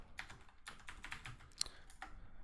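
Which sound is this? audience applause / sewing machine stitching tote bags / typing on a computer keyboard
typing on a computer keyboard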